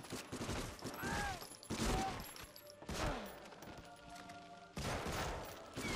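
Gunfire in Medal of Honor Frontline on PS2: repeated bursts of rapid shots, faint overall, with a few gaps between volleys and game sounds underneath.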